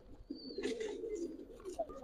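Giribaz pigeons coo at a bird market in old Dhaka, a short, soft, close run of low throaty coos, faint and brief.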